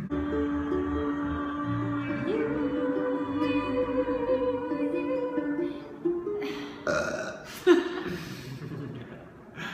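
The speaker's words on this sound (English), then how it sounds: "I just need to make it through my verse and then I can burp" A long, loud, drawn-out burp rolling on for several seconds, followed by a few sharp breathy snorts and gasps close to the mic.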